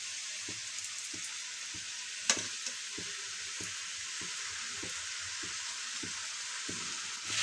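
Noodles stir-fried with chowmein vegetables in a pan for veg paneer chowmein sizzle steadily, with a constant frying hiss and regular soft scraping strokes of the spatula, plus one sharp clink.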